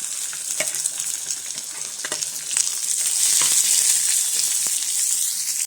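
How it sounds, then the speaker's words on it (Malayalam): Mustard seeds and small shallots frying in hot oil for a chicken curry, a loud continuous sizzle with scattered crackles and pops that grows fuller toward the end. "എണ്ണ ചൂടായി വരുമ്പം ഒരു സ്പൂണ് കടുക് ഇട്ട് കൊടുക്കുക ചെറിയ ഉള്ളി അരിഞ്ഞ് വെച്ചിട്ട് കൊടുക്കണേ"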